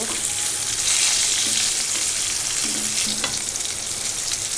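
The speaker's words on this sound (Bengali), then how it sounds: "এইভাবে লাল লাল করে ভেজে নেব" Eggplant pieces browning in hot oil, a dense, steady frying hiss that carries on evenly and loudly at close range for several seconds.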